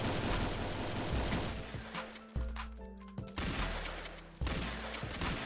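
Gunfire in the video game Roblox Island Royale, with rapid bursts of shots and sharp reports in quick succession, some sustained like automatic fire, loud and close with no talking.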